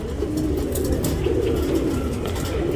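Tournament pigeons in Bangalore coo in soft, throaty, rolling calls close by, with a faint background hum and no talking.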